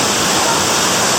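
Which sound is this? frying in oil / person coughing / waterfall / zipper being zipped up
waterfall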